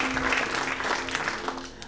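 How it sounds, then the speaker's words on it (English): Steady applause from a theater audience at the close of a public policy improv show, a dense crowd clapping continuously throughout the short burst. "Give yourselves a round of applause."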